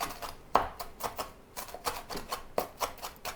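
A knife chops fresh greens finely on a cutting board for cold beet borscht, giving crisp, uneven taps in quick bursts, close and fairly quiet, with no talking.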